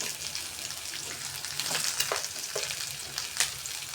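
Tomatoes frying in a pan for a restaurant-style egg curry give a steady sizzle, with a few brief stirring scrapes and crackles in the second half and no voices.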